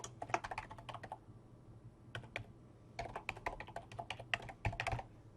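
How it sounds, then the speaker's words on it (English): Quick, quiet keystrokes on a computer keyboard as an email address is entered, bursts of light clicking separated by short pauses, close and faint with no talk. "make sure once you enter the email address that you click Enter on the keyboard"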